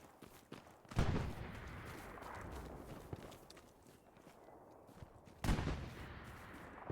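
Long-range rifle shots in a 49-versus-49 multiplayer World War II game at Sainte-Mère-Église: two sharp distant cracks a few seconds apart, with faint footsteps and ambient battlefield noise between them.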